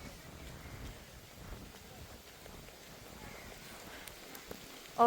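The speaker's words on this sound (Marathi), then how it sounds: "पाऊस खूप जोरात लागला" Heavy rain pours down in a steady, dense hiss, close by and continuous, with a brief louder bump right at the end, on a trek at Anjaneri near Nashik.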